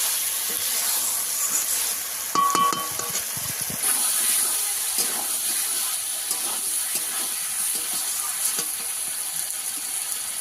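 Tomato masala for a bhola fish curry with potato and eggplant sizzles in a pan, a steady hiss of frying with scattered scraping and stirring clicks, brief louder clatter early on, no talking.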